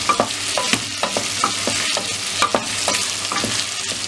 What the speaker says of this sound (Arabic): بعد كده هنضيف الكوارع ونقلب كويس